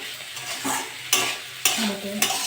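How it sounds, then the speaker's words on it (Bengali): Bitter gourd and potato fry in a pan, a loud, close, continuous sizzle punctuated by several firm scraping stirs, with no one speaking. "নেড়ে চেড়ে ভালো করে ভাজবো এটা।"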